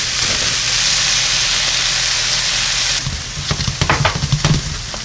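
Butter sizzles in a frying pan while cheesesteak stuffed peppers are being made. A steady hiss is followed by clinking and scraping as it is stirred.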